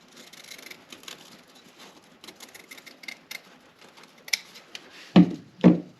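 Fiberglass cloth or peel ply is cut for a DIY sailboat build. Soft rustling and light ticks lead up to two sharp, close scissor snips in quick succession.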